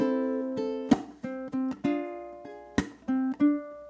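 Ukulele plays a short rhythmic phrase of plucked notes and percussive slaps, bright and close, with no voice.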